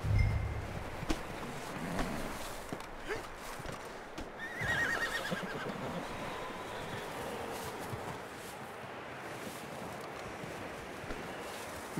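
Horses in the Red Dead Redemption II video game whinny near a cabin and barn while hooves clop softly, all under steady wind and outdoor ambience.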